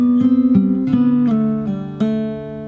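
A bar of a song played fingerstyle on guitar, a run of clearly plucked notes with ringing sustain, close and alone with no voice.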